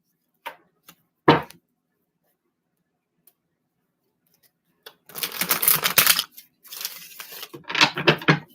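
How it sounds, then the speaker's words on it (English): Quick crisp riffling bursts of shuffled tarot cards, a few soft taps first, then two longer flurries close by, with no talking. "I'm going to do a little shuffle."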